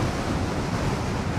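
Strong wind buffets the microphone at Fort Myers Beach during an MSX motorcycle ride, a steady broadband roar with low gusty rumble and no voices for the whole moment.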